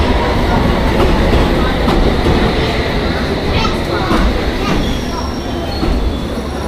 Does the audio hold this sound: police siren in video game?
no